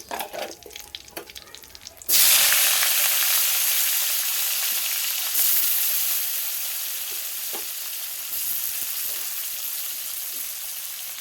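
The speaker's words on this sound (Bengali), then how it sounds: "আমি এদিকে দেখো পেঁয়াজ কুচি আর টমেটো কুচিটা দিয়ে দেবো।" Chopped onion and tomato drop into hot oil in a wok already tempered with cumin and bay leaf, bursting into a loud, steady sizzle that fades slowly with occasional stirring scrapes.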